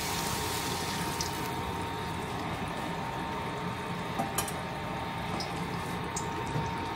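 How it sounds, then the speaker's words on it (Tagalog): Water poured into a sweet and sour sauce made with tomato ketchup on the stove, a continuous soft splashing and running-water wash with faint clinks in a kitchen. "Tapos, lagay lang ng tubig."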